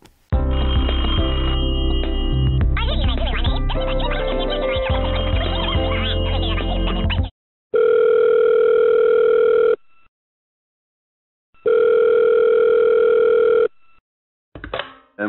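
A telephone call being placed: a dense electronic burst, then two long, steady ringing tones with silent gaps between them, ending in a short clipped sound, loud and without speech.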